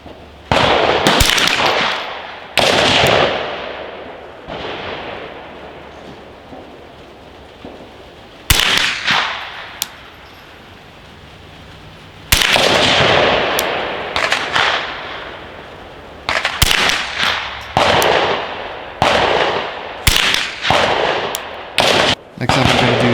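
A Volquartsen 10/22 rifle firing Federal Premium HV Match ammunition outdoors, with about a dozen sharp, loud single cracks spaced irregularly, some in quick pairs, each followed by a brief fading echo.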